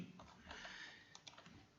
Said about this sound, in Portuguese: Vou digitando para ficar mais bonitinho.